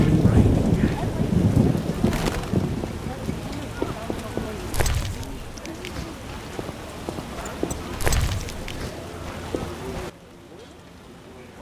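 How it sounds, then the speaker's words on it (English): Rain and thunder in the video game The Witcher: steady hissing rainfall with low rumbling thunder rolls and scattered sharper cracks, loud and close, with a voice briefly heard over the storm before it cuts off. "It's really raining."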